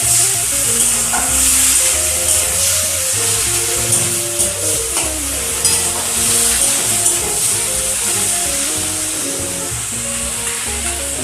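Spices sizzle loudly in hot oil as a tempering for a bottle gourd stem dish, a steady crackling hiss, stirred now and then, with no voices.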